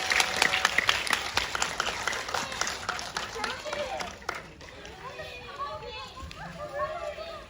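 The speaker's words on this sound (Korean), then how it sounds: "그럼 큰 박수로 마치도록 하겠습니다." A cinema audience at a Korean film guest-visit screening breaks into brisk clapping for about four seconds, then it fades into a murmur of scattered voices and movement as people begin to leave.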